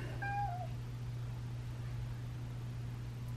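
A small cat gives a single short meow near the start, then only a low steady hum and faint room noise continue for the rest of the time.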